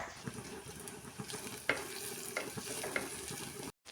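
Turmeric and chili powder are stirred into onions frying in a pan, a soft continuous sizzle broken by repeated utensil scrapes and taps, fairly quiet, ending in a short cut to silence.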